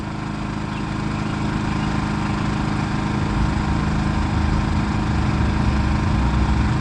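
A Champion dual fuel generator runs in economy mode, producing a steady, even engine drone that holds loud and continuous from start to finish, with no talking over it.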